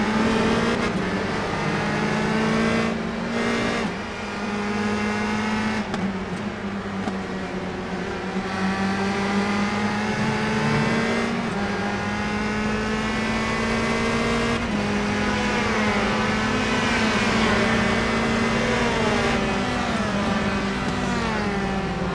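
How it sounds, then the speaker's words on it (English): Indy Pro 2000 open-wheel race cars howl around Okayama International Circuit in the iRacing simulator, several loud engine whines layered together, pitches climbing and dropping through gear changes without a break. "Let's go on board with Ted Burns as he's going to be the car that's on the hunt"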